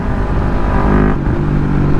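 A Yamaha MT03 motorcycle engine revs loudly through its exhaust pipe, a close, rough, steady drone that swells briefly in pitch near the middle.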